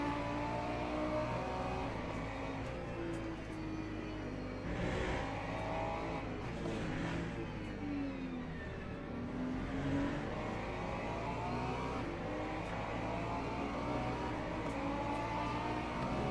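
LMP2 race cars roar around the Algarve circuit, a continuous loud engine drone with rising and falling pitch as they accelerate and pass, with no talk over it.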